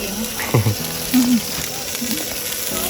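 Battered chicken sizzles steadily while deep-frying in hot oil at an outdoor campsite, a continuous close frying hiss with voices talking over it.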